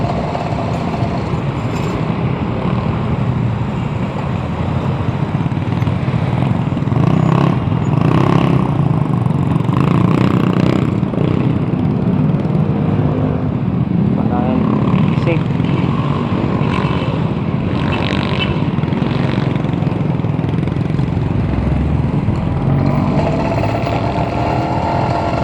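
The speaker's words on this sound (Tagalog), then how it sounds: "Sabayin natin yung motor." A motorized bike riding along a road near Tanay, Rizal, its engine droning steadily and close for the whole stretch, with wind and road rumble underneath.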